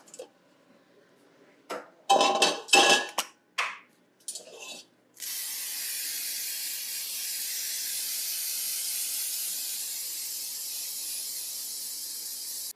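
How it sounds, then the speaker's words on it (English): A few clattering knocks and rattles at a sink, then a long continuous hiss of cooking spray from an aerosol can onto a baking pan, close and steady for several seconds. "I'm gonna spray it over here at the sink because it can be messy."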